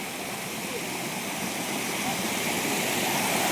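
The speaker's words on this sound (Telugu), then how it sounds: "ఇదంతా వాటర్ ఫాల్ అనమాట." The Munjuluru waterfall in a forest gives off a steady, loud, broadband roar of rushing water that holds even throughout and builds slightly toward the end.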